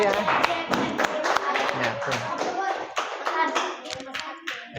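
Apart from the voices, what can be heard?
audience applause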